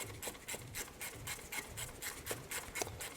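Ratchet with a T20 bit working loose the two bolts on the idle air control valve of a GM 3100 engine, giving quick repeated raspy clicking strokes in a steady rhythm, close up with no talking.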